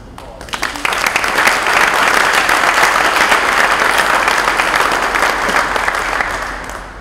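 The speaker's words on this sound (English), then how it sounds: "I think that deserves a round of applause." Sustained applause from a large audience at a Volvo Cars XC90 announcement event in Berkeley County, steady dense clapping rising quickly and holding loud throughout, with no talk over it.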